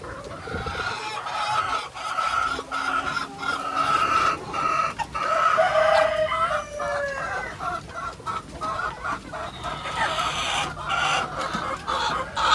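Chickens in a poultry pen cluck steadily and close by, with occasional louder squawks and crowing-like calls rising over a busy flock murmur throughout.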